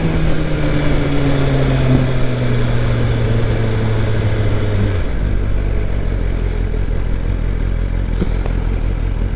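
A 2023 BMW M1000R Competition sportbike rides through traffic, its engine droning loud and steady with a falling pitch as it eases off, then holding a lower hum under heavy wind rush.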